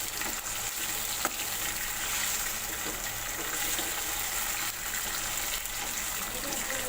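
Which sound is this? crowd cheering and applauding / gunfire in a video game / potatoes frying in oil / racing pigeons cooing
potatoes frying in oil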